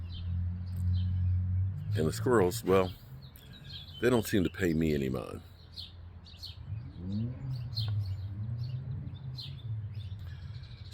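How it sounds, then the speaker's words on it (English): Birds chirp and tweet intermittently in the background while someone talks nearby. "I hear the birds chirping."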